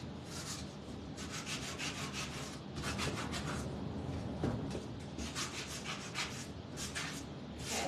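A wooden tic-tac-toe board being sanded by hand, with steady close scratchy rubbing strokes in a continuous back-and-forth rhythm.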